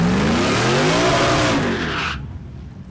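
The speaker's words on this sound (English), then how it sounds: "In the supercharged F-150. He's running it in two-wheel drive here in the Pure Street category." A supercharged Ford F-150 drag truck running in two-wheel drive in the Pure Street class at a no-prep drag strip at Newport Raceway, roaring loudly with a rising, revving engine pitch before the sound cuts off abruptly and fades to quiet.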